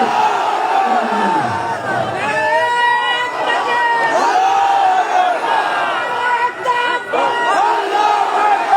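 A large crowd at an Islamic mahfil in Shahjadpur, Sirajganj roars back in unison to a takbir call, loud and sustained voices chanting together, with a shouted lead voice over the mass response.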